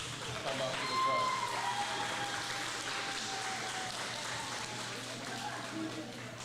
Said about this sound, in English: Let's clap it up as all the teachers come up to the front.